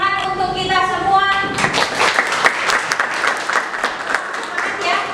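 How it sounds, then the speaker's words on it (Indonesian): Classroom applause from a group of students, a burst of clapping that starts after a brief stretch of talk and then stays steady and fairly close for several seconds. "tepuk tangan untuk kita semua"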